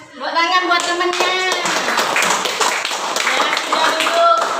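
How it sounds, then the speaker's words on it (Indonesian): Group of schoolchildren clapping for their classmates in a classroom, a steady patter of hand claps under an adult's voice giving instructions. "Tepuk tangan buat temennya."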